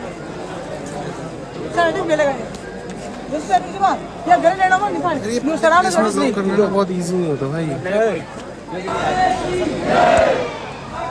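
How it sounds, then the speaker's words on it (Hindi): Dense crowd of devotees pressing toward the Khatu Shyam temple, a continuous murmur of many voices with shouted chants rising at times, while someone talks close over it. "देखो भीड़।"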